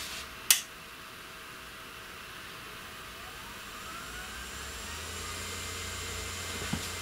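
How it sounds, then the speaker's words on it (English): A CNC 3040 router spindle runs with a steady, faint, airy whine and hiss, preceded by a brief click as it switches on, continuing evenly with a small knock near the end. "I'll just turn on the spindle."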